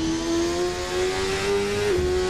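Kart engine from an Assetto Corsa mod at Laguna Seca in the video game, a sustained high buzzing drone that holds steady, then dips briefly near the end as the kart shifts or lifts off.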